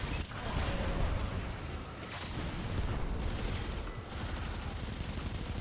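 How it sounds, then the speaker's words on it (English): Loud, dense bursts of explosive and gunfire-like booms fill a first-person shooter raid, with a grenade blast among a continuous, heavy barrage of in-game combat noise and no voices. "I'm gonna go ahead and nade myself here."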